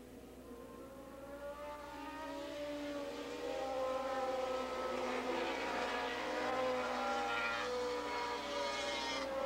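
Racing motorcycles at a 1987 open Grand Prix road race at Willow Springs Raceway pull away into turn one, a dense, rising roar of many engines with sustained tonal whine, loud and continuous throughout.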